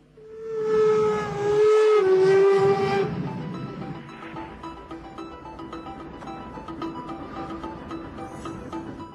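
A steam locomotive's whistle blows one long, loud, steady tone lasting about three seconds, then steam hisses and the train rumbles on continuously.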